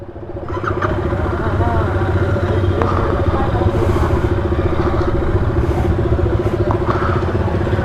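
Apache motorcycle engine at cruising speed on the road, a loud steady drone with rumbling wind noise throughout.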